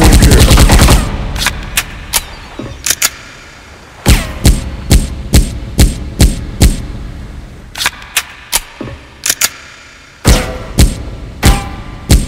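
UZI gunfire in a shooting video game: sharp, loud shots in short bursts and single cracks, separated by brief pauses and a couple of longer gaps, with no talking over them.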